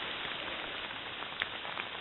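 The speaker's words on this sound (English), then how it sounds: "Now she's having dinner, and it's still raining." Steady rain falling at a wet campsite on the Superior Hiking Trail, a dense even hiss of drops with a few slightly louder patters, continuous and close.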